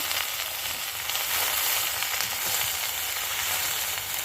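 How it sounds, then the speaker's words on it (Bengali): Red amaranth leaves hit hot oil with onion, garlic and chilli, setting off a loud, dense, continuous sizzle close up with no talk. "এই যে লাল শাক তেলারির মধ্যে দিয়ে দেওয়া হলো পেঁয়াজ রসুন মরিচের ভেতরে"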